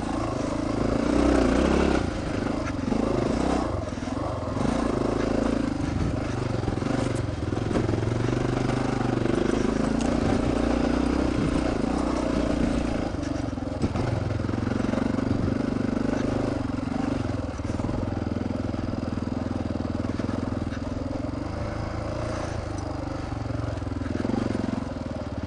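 Dirt motorcycles ride a technical trail through the Hayman burn area in Colorado, engines droning and revving loudly and continuously with rattling clatter.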